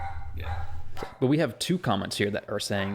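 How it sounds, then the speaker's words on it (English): Dog barking in the background of a front-porch podcast recording, a few short barks near the start followed by someone talking over quiet background. "so sorry about the dog in the background"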